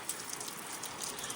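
Heavy monsoon rain pours down near the Panimur waterfall in Dima Hasao, Assam, making a steady, dense hiss with scattered patter of drops and no voices.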